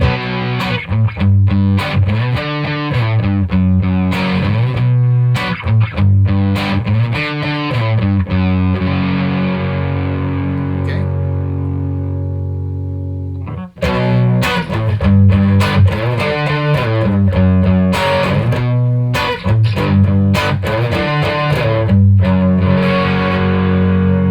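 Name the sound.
electric guitar bridge pickup with distortion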